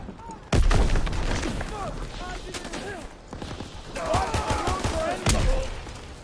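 Gunfire from a Call of Duty: WWII multiplayer match, with bursts and loud shots overlapping into a busy battlefield din, while voices speak over parts of it.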